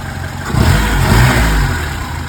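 A car engine revs up loudly and holds high revs with a turbocharger blowing, close by and continuous, then eases slightly toward the end, with no voices.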